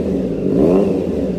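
A Triumph Trident 660 motorcycle at part throttle through its exhaust, making a steady, deep, loud, close rumble that swells slightly and settles.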